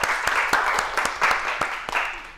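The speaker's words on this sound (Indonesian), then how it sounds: "Tepuk tangan buat kita semua ya." A classroom audience at a microteaching session claps briefly, with several sharp hand claps over a dense rattle of applause that fades toward the end.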